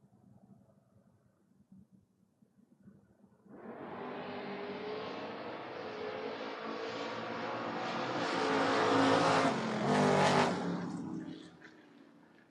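Drag race cars, a Cutlass against a Monza, roar down the strip at a door wars event, a loud sustained engine howl building after a quiet start, peaking near the end and then fading out.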